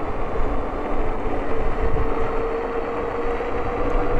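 A steady electric motor whine from a 2024 Minako Fox electric fat bike runs under heavy wind and road rumble, its pitch holding level as the ride continues, with no talking.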